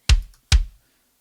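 Two punchy, deep kick drum hits, closely miked, land about half a second apart, each with a short boomy decay.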